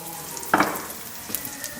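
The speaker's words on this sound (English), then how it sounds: "I like to hear that sizzle." Food fries in hot oil in a pot at home, with a steady close sizzle that flares into a louder crackling burst as ingredients are stirred, then settles back to a soft hiss.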